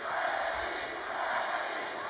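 A large wrestling arena crowd at a live Monday Night RAW show chants in unison, a dense, steady roar filling the space without pause.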